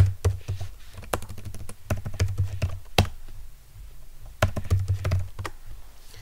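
A passphrase is typed on a computer keyboard on Ubuntu, giving close, crisp key clicks in irregular clusters with short pauses between bursts and no talking.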